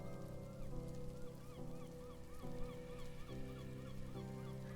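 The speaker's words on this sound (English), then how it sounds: "So let's feed our seagulls." Seagulls in the Fish 'n Ships video game give repeated honking squawks over a steady, stepping tonal game tune, all fairly faint, with no one talking.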